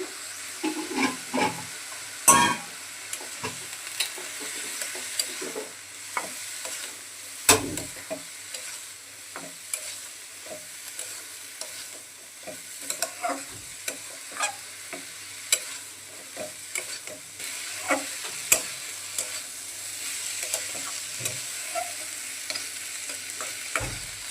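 Vegetables seasoned with salt and turmeric sizzle in a pan while being stirred, giving a continuous frying hiss with frequent spatula scrapes and clatters throughout, no talking.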